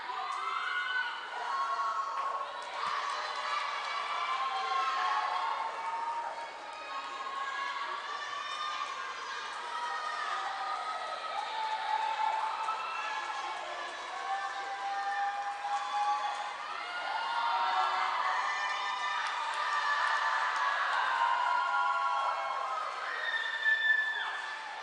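Spectators at an indoor swim meet cheering on Apollo swimmers, a steady wash of crowd shouting and whoops echoing through the natatorium, sustained for the whole stretch with no pauses.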